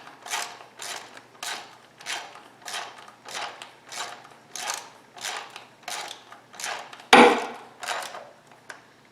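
A wrench ratchets spark plugs into a 2013 Kia engine, giving a steady series of about a dozen close clicking ratchet strokes with one louder clack near the end.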